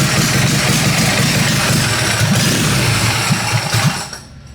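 A twin-cylinder mini bike engine with a leaking carburetor and a custom stainless steel exhaust idles with a steady, rapid, uneven putter, loud and close, fading out abruptly near the end.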